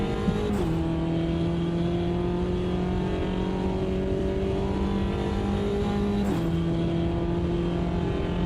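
Front-wheel drive race car in Automobilista 2 on a flying lap, a steady high engine drone holding revs, with two sharp upshifts that drop the pitch briefly before it climbs again.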